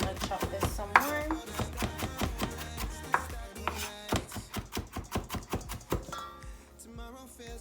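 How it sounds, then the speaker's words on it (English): Vegetables for potato salad being chopped finely with a knife on a cutting board, a quick run of sharp, uneven knocks close by, heard over soft background music. "So I'm gonna chop this some more."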